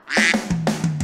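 A voice imitates a duck, giving a quick series of nasal quacks, close and fairly loud, with no other sound around.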